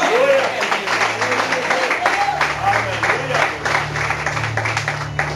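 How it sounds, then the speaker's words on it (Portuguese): Congregation applauding the Lord Jesus at an evangelical church service, a steady dense wash of clapping from many hands with a low sustained musical hum and voices mixed underneath. "Palmas ao Senhor Jesus"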